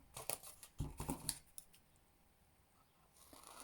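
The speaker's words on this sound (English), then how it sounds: "Turn it, cut up to the first score line." Scissors snipping patterned paper up to a score line, a cluster of quick crisp cuts close by, then quiet room tone with faint rustling.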